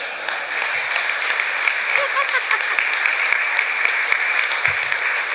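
An audience at a Washington transportation briefing applauds in a steady, sustained round of clapping, fairly close and even in loudness throughout.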